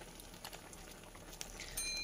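Coconut-milk fish-head curry made from giant catfish heads, Semarang mangut style, bubbles in a large wok with a soft, continuous simmering patter and occasional pops, close and steady, with no talking.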